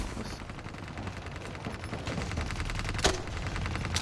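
Automatic gunfire sprays continuously in a Black Ops 3 multiplayer match, a rapid, steady rattle of shots with a sharper crack near the end.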